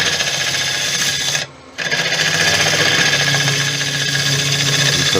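A gouge back-hollows a teak vase on a lathe, giving a continuous harsh scraping rasp that cuts out for a brief gap partway through, then resumes at a steady loud level.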